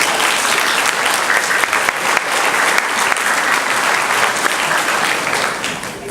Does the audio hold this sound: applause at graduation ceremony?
yes